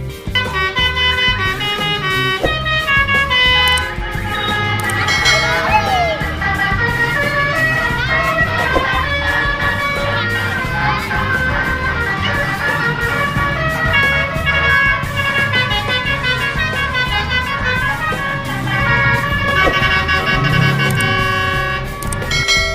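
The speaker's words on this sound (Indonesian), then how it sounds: "Perang telolet Basuri antara bus Ashirov dan kereta" Telolet horns of a bus and an odong-odong road train trade loud, continuous melodic multi-tone blasts back and forth, overlapping without pause.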